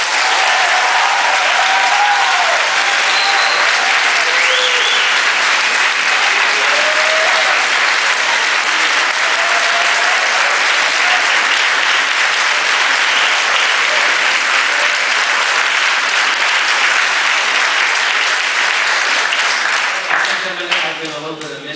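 Long, loud audience applause for the conductor of a symphonic band after an evening concert, a thick wash of many hands clapping that continues steadily for over twenty seconds and thins near the end.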